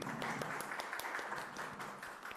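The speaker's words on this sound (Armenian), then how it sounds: "Եկեք ծափարենք բոլորին։" Audience applause at a business talk event, a steady wash of many hands clapping close by, even and sustained throughout with no voices on top.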